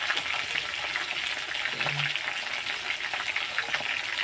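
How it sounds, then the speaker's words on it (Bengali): Vegetables frying in a pan for a home-cooked bottle gourd greens dish, giving a steady, dense sizzle that stays even for a few seconds. "আর এদিকে সবজিটা আগে ভেজে নিই, তারপরে শাকগুলো দেবো।"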